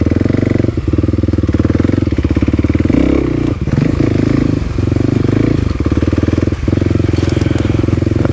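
A Kawasaki KLX300 dirt bike engine drones loudly and continuously while the bike is ridden toward a quarry, its rapid firing pulses close and steady with brief dips in throttle.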